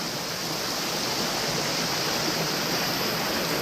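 The Mele Mulli river flows over rounded, water-worn stones, giving a steady, close rushing wash that stays even from start to finish with no voices.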